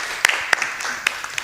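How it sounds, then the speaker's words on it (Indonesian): In a university classroom, a few short, sharp claps ring out for a student named Nadia. The scattered hand claps come from a small group and fade quickly after the brief burst. "tepuk tangan untuk Nadia"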